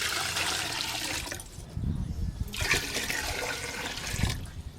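Water pours from a vessel into a cooking pot for rice over a lit clay stove, a steady splashing rush that pauses briefly and resumes, close and fairly loud.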